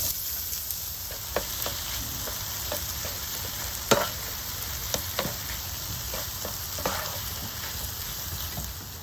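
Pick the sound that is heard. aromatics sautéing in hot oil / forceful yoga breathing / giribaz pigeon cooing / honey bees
aromatics sautéing in hot oil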